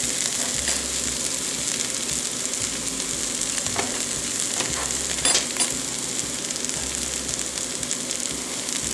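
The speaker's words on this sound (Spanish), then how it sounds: "Ya los dejé freír por unos 10 minutos aproximadamente." Corn kernels for esquites sizzling in a pan, a dense, continuous crackling fry close up with occasional sharper pops and stirring scrapes, no talking.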